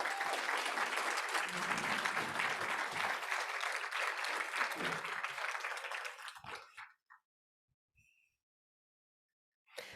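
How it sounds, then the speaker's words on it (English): A conference audience at a transit summit breaks into dense, loud applause that holds steady for about six seconds before fading out into near silence. "Can we get another round of applause for all three?"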